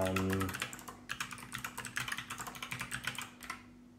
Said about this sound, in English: the box whites are a clicky switch that uses a click bar to give you both the tactile feel and the sound